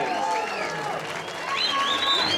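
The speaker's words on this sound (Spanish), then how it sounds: "aplauso a la Kika" A crowd at a boxing weigh-in for Kika Chávez versus Arely Muciño applauds, with a brief wash of clapping mixed with cheering and whistles.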